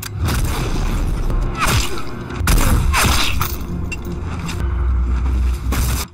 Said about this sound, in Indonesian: Dan Lin Yuan mulai menembak membersihkan area